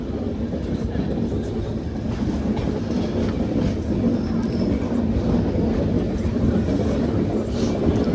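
Kirandul passenger train running on the line from Vizag to Araku: a continuous, loud rumble and rattle of rolling carriages heard from on board, steady throughout.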